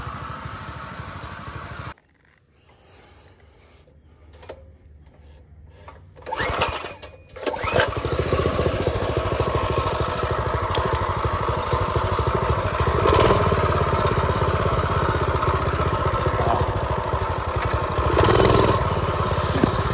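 Old school stretched Doodle Bug mini bike with a swapped engine starts up and runs steadily on a ride, a buzzing small engine that holds a constant drone close by.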